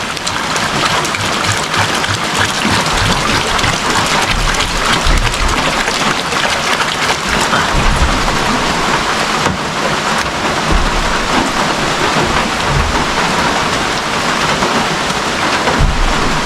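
Heavy rain pours down steadily and loudly on surfaces outdoors near animal pens, a dense continuous hiss with low rumbles of thunder beneath and no talking.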